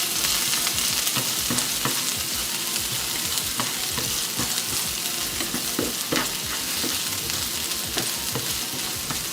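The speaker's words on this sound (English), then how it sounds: "get the onions into this pan. And we're gonna saute a little bit." Onions sautéing in a pan for vegan Jamaican patties, a dense, continuous close sizzle with frequent scraping and stirring clicks throughout, no voices.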